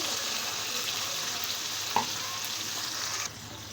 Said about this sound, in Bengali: পেঁয়াজ ভাজাটা আমার বাদামি কালার হয়ে এসেছে এখন আমি দিয়ে দিচ্ছি আদা এবং রসুন বাটা দিয়ে দিচ্ছি অল্প একটু পানি